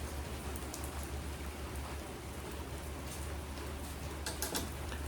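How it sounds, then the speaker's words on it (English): Pouring rain falls outside an open garage, a dense, steady hiss of drops hitting surfaces that continues without a break, with a low constant rumble underneath and no voices. "it just started pouring rain"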